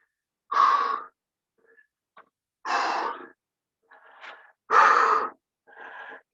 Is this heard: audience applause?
no